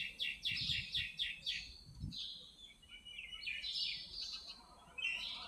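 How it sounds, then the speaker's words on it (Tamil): Sparrows chirp in quick, bright bursts from a nest nearby, a busy twittering chorus over faint background rustle. "உள்ள குருவி கூட்டுக்கு சத்தம் கேட்குது."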